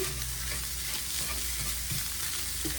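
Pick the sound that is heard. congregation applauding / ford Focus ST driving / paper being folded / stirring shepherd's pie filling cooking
stirring shepherd's pie filling cooking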